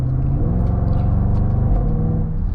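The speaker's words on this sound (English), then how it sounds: "the AJ V8s are just iconic for those incredible thunderous, raucous sound when they're really opened up" A 2024 Jaguar F-Pace SVR with its AJ V8 rumbles steadily from inside the cabin while driving, a loud, deep and continuous engine drone with a slight throaty warble and no talk.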